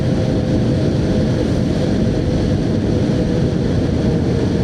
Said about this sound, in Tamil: ஆனால் அந்த ஃபுல் த்ராட்டில் ஃபுல் பண்ணும்போது ஒரு சவுண்டு கொடுக்குது பாருங்கள்.